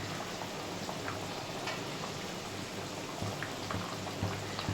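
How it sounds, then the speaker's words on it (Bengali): Curry broth with eggs boiling in a pan, giving a continuous bubbling, crackling simmer close by, with no voices. "তরকারির ঝোলটা ফুটে উঠেছে"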